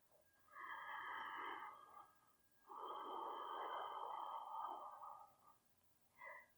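Deep, audible breaths drawn through the rib cage during a yoga posture exercise, close and unhurried: one long airy inhale or exhale, a second longer one, then the start of another, with no talking.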